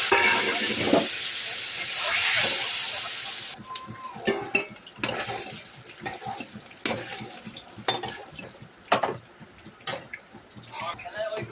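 Eggs fry in a pan during home cooking of a minced-meat and egg dish, starting with a loud hissing sizzle and then turning quieter, with repeated close scraping and clinking as the pan is stirred.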